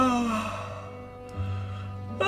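A drawn-out yawn voiced by a game character in the visual novel Destiny's Princess, a single sighing exhale that starts higher and sinks into a lower moaning tone, close and fairly clear over a quiet background.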